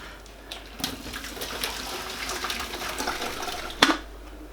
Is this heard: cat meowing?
no